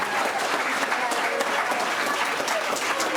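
Audience members at a city council meeting in Santa Clarita applaud steadily, a dense wash of clapping from many hands that holds at an even level throughout, with some voices mixed in.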